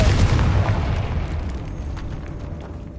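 A Confringo spell blasts off in a video game, a loud booming explosion that hits hard at once and then rolls into a long, slowly fading rumble with crackling debris.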